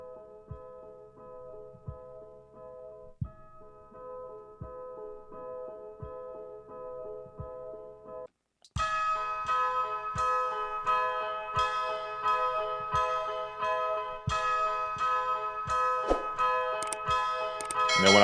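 A Mobb Deep style hip-hop beat made in Maschine and run through a low-pass filter with the cutoff near 221 Hz: a sustained dark tonal loop with regular soft thumps, then a brighter, fuller section with more layers, loud with no talk.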